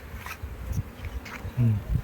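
Honey bees buzz steadily around hives at a bee farm in Hatta, Dubai, a dense close hum with a louder drone passing near the microphone, while people talk quietly in the background.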